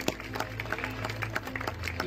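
A crowd applauds the Racing Club de Lens team at a blind-football prize ceremony in Précy-sur-Oise, brisk scattered clapping close by with some crowd noise in the background.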